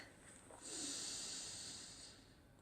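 A slow, steady breath drawn in during a guided breathing exercise, a soft airy hiss that swells after the first half second and holds before easing off, close and quiet with no talk over it.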